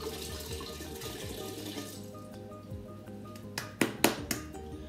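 Red wine pours steadily into a cooking pot, a continuous soft liquid stream that fades, followed by a few sharp clinks near the end.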